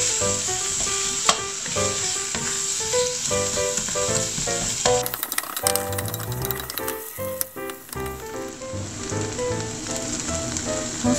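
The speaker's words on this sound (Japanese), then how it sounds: "じゃがいもを加えていきます。 しっかり炒めます。" Potatoes with bacon and onion stir-fry in a pan with a dense, continuous sizzle, broken by frequent scraping and clattering strokes of a utensil, close and fairly loud with no voices.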